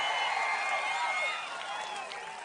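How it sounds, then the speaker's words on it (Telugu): Crowd at a political election rally in Pedana, Andhra Pradesh, applauding and cheering steadily, a dense wash of clapping that tapers slightly toward the end. "గట్టిగా చప్పట్లు కొట్టి హర్షాన్ని ఆమోదం తెలియజేయండి"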